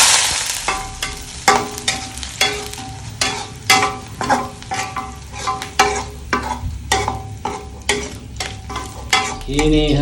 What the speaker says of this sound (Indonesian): Ini bumbu yang sudah dipotong-potong, langsung saya goreng.